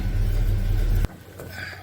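A 1984 Chevy C10 pickup engine idles while warming up, a loud, steady low rumble for about a second before cutting off abruptly, leaving only faint background noise.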